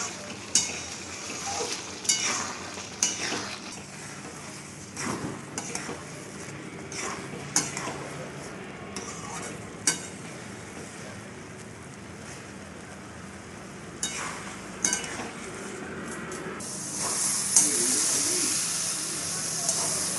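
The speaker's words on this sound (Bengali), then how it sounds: "এটা ভালো করે নাড়িয়ে নেব আমি এটাকে সবসময় নাড়াতে হবে যাতে নিচে না বসে যায়" Carrot and milk mixture being stirred in a pan, with scraping spoon strokes at irregular intervals over a steady low simmer and hiss, fairly quiet and close, with a short loud sizzle burst near the end.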